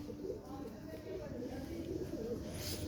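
Rampuri pigeons cooing at the Lahore pigeon market, a faint low murmur of coos in a short stretch, quiet and somewhat distant under general background noise.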